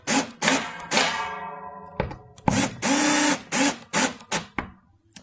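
Screws driven in one after another on a Sela CaSela quick assembly snare drum kit, loud buzzing bursts of a powered screwdriver with short pauses and a few metallic clunks between them.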